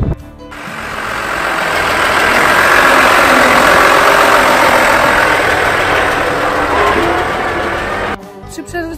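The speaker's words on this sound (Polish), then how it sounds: "Jeżdżenie traktorem i przewożenie opon z jednego miejsca na drugie miejsce." A tractor engine runs on an Australian farm while tyres are hauled, a loud, steady mid-pitched drone that swells and holds before cutting off near the end, with brief clatter at the edges.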